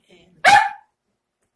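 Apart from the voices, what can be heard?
dog barking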